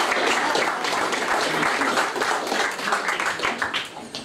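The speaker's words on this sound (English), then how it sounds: "Well, can we have another big round of applause for Katherine Mann?" A concert audience at an outdoor tutors' concert gives a band class a big round of applause, with dense, steady clapping from many hands filling the whole stretch at a fairly even level.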